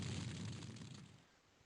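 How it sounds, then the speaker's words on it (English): Magma Bolt spells go off in a turn-based fantasy strategy game, a loud booming burst with a rumbling low body that fades out over a second or two, no voices. "our guys are going to get off 2 rounds of Magma Bolts"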